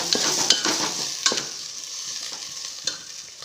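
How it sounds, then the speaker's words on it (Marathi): Black masala is stirred and roasted in oil for a Maharashtrian yelavani amti. A spoon knocks and scrapes the pan in quick, irregular strokes over a lively close sizzle, with no speech. "चांगले तेल सुटेपर्यंत मसाला भाजून"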